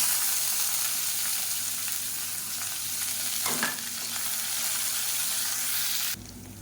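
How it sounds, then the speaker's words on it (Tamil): Onion sizzles in hot oil with mustard seeds, dried red chillies and curry leaves for green mango rasam. A close, steady frying hiss carries a brief stirring scrape midway, and the sound drops abruptly near the end. "இப்போ வெங்காயம் நல்லா வதங்கிடுச்சு."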